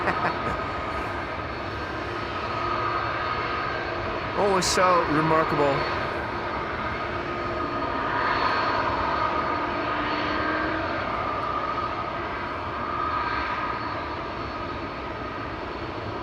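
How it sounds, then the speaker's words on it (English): Airbus A330 jet engines roar and swell as the airliner turns toward the listener at Amsterdam Schiphol Airport, a broad, steady rumble from a moderate distance, with someone talking over it. "As soon as that A330 turns its nose towards us, immediately you can start hearing those engines."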